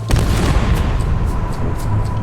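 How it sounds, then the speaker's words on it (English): Heavy booming cannon blasts in the video game Return to Monkey Island rumble with deep, sustained low-end roar, a few sharper bursts cutting through the dense, continuous thunder. "Ready for cannon firing."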